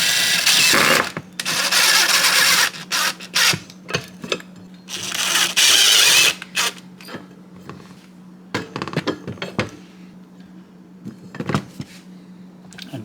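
A rack for DeWalt and Snap-on impact tools being bolted onto a wall: loud bursts of a power driver whirring, then scattered clanks, knocks and rattles of hardware against the wall, no talk.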